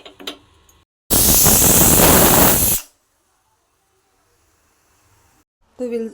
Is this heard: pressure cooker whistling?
yes